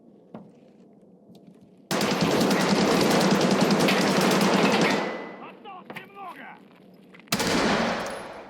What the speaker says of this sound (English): I'll try to take a pot shot at this player.